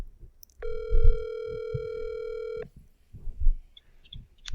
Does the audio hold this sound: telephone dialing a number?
yes